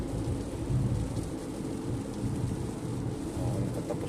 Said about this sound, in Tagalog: Walang katapos-tapos yung ulan.